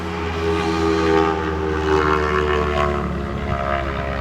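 A race car at Phillip Island circuit, apparently running without an exhaust, gives a loud, continuous harsh drone with a strong steady tone that swells and ebbs slightly as it passes nearby, and no voices are heard.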